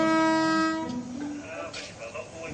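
A train horn sounds loudly at first and fades into the rumble and clatter of a mixed freight and passenger train in Brazil, with faint voices over the rolling noise.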